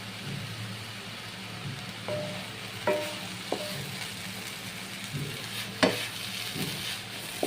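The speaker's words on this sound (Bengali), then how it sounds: "আর এখন আমি দিয়ে দেব দুধটা।" Carrot halwa being stirred in a pan after milk is added, with soft scraping and a few sharp clinks of the spoon against the pan over a faint steady sizzle.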